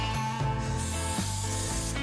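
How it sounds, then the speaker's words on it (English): Spray gun laying epoxy primer on a Rambler car body, a steady close hiss with slight shifts in pitch throughout. "when you're spraying epoxy and primers"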